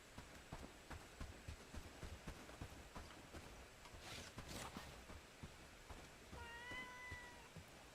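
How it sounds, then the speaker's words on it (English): A pet cat meows a few times in quick succession near the end, rising and bending in pitch, with light footstep-like taps and background clatter earlier. "I heard my kitty."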